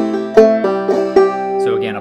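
Clawhammer banjo playing a short phrase from the fiddle tune Colored Aristocracy, a few bright plucked notes with sharp attacks over a ringing drone string, close and clear without talk.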